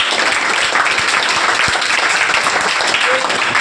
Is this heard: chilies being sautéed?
no